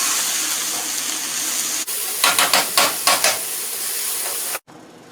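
Chicken masala stirred into rice in a hot pot, a steady hiss with a burst of short scraping strokes midway before a sudden stop.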